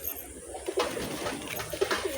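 A pigeon coos low and soft in a short, rolling murmur, close by, against a hissy background.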